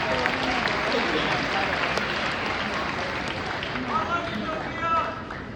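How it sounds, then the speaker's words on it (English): Sustained applause from a large crowd at a high school spring sport pep rally, steady and loud throughout, with scattered cheers and voices rising in the background. "big round of applause, great season"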